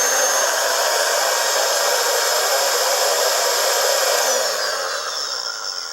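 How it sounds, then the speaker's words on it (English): An electric spice grinder whirs loudly and steadily as spices are ground, a continuous high whine that slows and drops in pitch near the end, with no talking. "You grind it a little bit longer."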